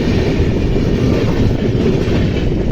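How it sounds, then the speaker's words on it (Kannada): Another train rushes past alongside the Chennai–Bengaluru AC double decker train near Katpadi Junction, a loud, close, continuous roar of wheels and rattling carriages with no talk. "ಯಾವುದೋ ಒಂದು ಟ್ರೈನ್ ಓವರ್ಟೇಕ್ ಮಾಡಾಕತೈತಿ ನಮ್ಮನ್ನ."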